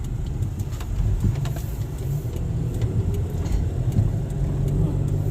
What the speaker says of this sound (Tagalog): maraming sasakyan na tumatakbo